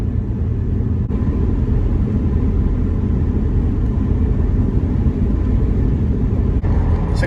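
A 1984 Lincoln limousine cruising at about 65 mph on cruise control gives a loud, steady low road and engine rumble that continues without a break, with a couple of faint clicks inside the cabin.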